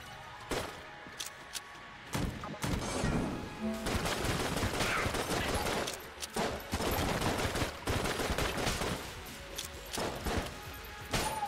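Rapid bursts of gunfire from the Beholster weapon in Enter the Gungeon, dense clattering volleys with brief pauses between, loud and continuous with no talking.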